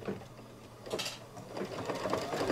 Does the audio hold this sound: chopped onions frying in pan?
no